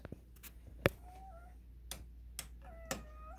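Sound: cat meowing

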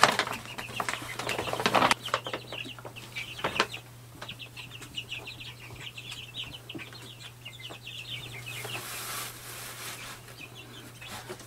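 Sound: week-and-a-half-old meat bird chicks

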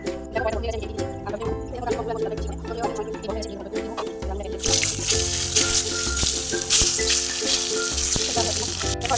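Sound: frying potatoes in hot pan

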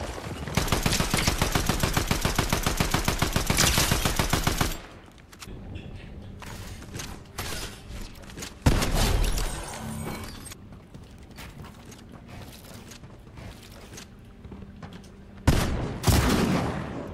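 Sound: shotgun firing in a video game

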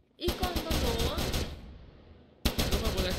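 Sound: gunfire in the video game Perfect Heist 2

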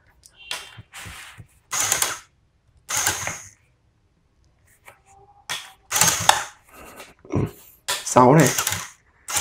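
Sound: homemade Shopee coin-shaker machine automatically shaking dice

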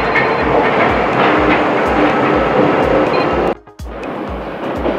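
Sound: Paris metro train arriving at station

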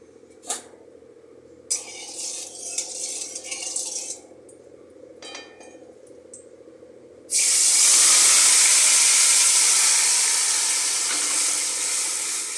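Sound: marinated prawns frying in hot white oil in a wok

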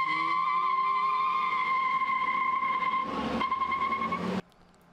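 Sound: Honda Civic SI doing a burnout at a car meet

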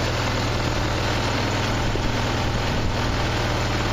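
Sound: Mazda 626 engine idling at around 1300 RPM

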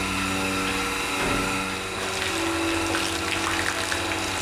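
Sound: water spraying to shower farm animals

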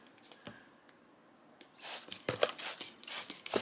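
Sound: spraying case lube on brass

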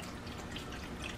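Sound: pouring chicken broth into a pot for rice

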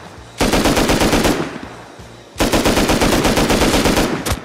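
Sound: gunfire in a video game

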